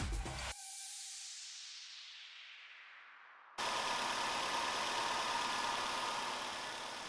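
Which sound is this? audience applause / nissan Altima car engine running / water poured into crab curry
nissan Altima car engine running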